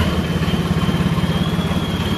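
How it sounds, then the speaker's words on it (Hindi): A tractor's engine chugs steadily at close range as the machine is driven out to fetch new tyres, with a low, even pulsing rhythm throughout and no voices. "भाई एक बार ट्रैक्टर बाहर निकाल रहे हैं, चल रहे हैं टायर लेने"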